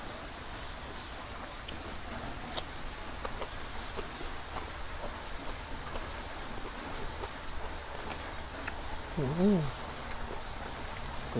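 Rain falls steadily outdoors, a constant hissing wash of drops that holds level throughout, with a brief murmured voice near the end.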